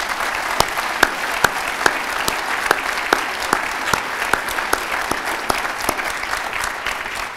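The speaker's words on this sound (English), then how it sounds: "I think that deserves a round of applause." A large university audience claps continuously at a State of the University address, a dense even applause with a few louder individual claps standing out, and no voices over it.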